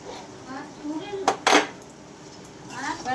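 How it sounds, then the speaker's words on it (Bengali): Shrimp and kochur loti (taro stolons) stirred in a pan with a little sugar, giving soft scraping and a couple of sharp metallic clinks of the utensil against the pan at close range. "ভালো করে নেড়ে নেব"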